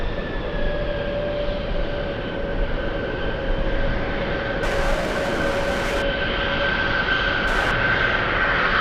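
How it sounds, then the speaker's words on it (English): Boeing 747 jet taking off along the full length of runway 13 left, a steady broad engine roar holding strong throughout with sustained tonal whines layered on top, no talking. "747 using the entire length of 13 left"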